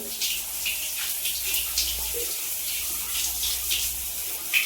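Water running steadily from a filter tap, a continuous close splashing stream with faint voices in the background.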